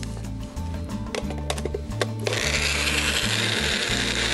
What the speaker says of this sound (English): we'll get this back on the blender here for one more go